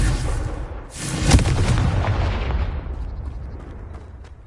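In the Hogwarts Legacy video game, a Confringo explosive spell lands with a single sharp, booming blast that trails off into a fading rumble.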